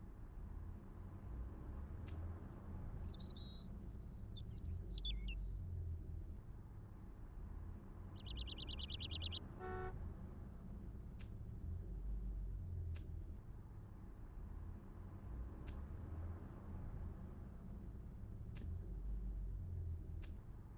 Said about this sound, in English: all I could hear was the ceaseless drone of traffic